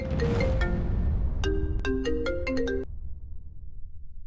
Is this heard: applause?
no